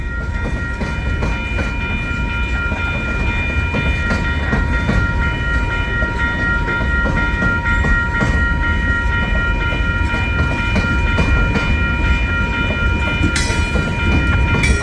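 A railroad service car rolls steadily past at milepost 529 in St. Paul, a loud continuous rumble with rail clatter and a brief high squeal near the end, no voices.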